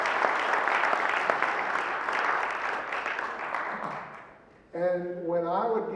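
Audience applause for a woman being thanked at a public event, dense and steady for about four seconds, then fading before a voice and tonal sounds cut in.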